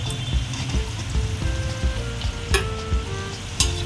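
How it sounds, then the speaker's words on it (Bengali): Potatoes fry in oil with a steady, close sizzle and bubbling, broken by occasional clinks and scrapes of a utensil against the pan. "আলুগুলো ভাজা ভাজা হয়ে গেছে"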